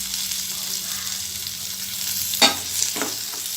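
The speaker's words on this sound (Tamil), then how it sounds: "இது நல்லா வதக்கணும்." Ridge gourd sizzles steadily in a hot pan with tamarind and ginger while sautéing for chutney, a continuous close fry hiss broken by a couple of brief scraping stirs near the end.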